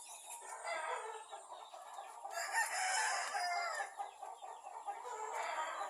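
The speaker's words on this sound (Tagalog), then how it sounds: "Yan kasi ang ingay-ingay ng manok namin." Backyard chickens cluck and a rooster crows, a busy flock heard at moderate distance, fairly faint, with overlapping calls throughout.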